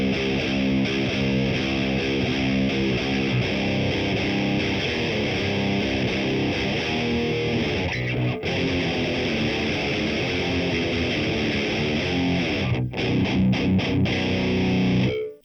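Heavy distorted electric guitar through a Boss Katana Gen 3 amp with compressor on, playing chugging riffs loud and dense with brief stops between phrases; no talking.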